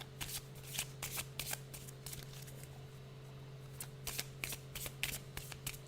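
Tarot cards shuffled repeatedly in quick riffling bursts, near and clear over a steady low hum, with no talking.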